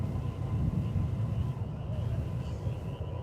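An American Airlines airliner in Stand Up to Cancer livery at DFW Airport gives a steady, broad jet roar, fairly distant and continuous throughout.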